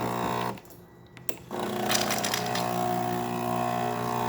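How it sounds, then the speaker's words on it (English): A Breville espresso machine, just fitted with a new boiler and given a full tune-up, runs a steady stream of hot water. It makes a continuous rushing hiss over a low machine hum, with a brief dip near the start and no voices. "Steady stream coming out of the machine, nice and hot, working great."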